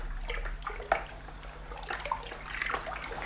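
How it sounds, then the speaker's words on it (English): Wash for an Air Still distiller is stirred in a bucket, making close, steady liquid swishing and sloshing with a couple of sharper splashes and no voices. "So we're going to stir that in nicely."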